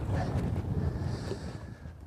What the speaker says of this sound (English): The wind's blowing across these points